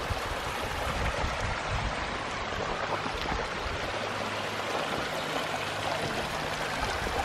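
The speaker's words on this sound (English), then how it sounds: "this is the water. It's running over these hard rocks." Steady rushing of water flowing over hard rocks at Mossy Cave, Bryce Canyon, a continuous broadband wash with no pauses, fairly close and constant throughout.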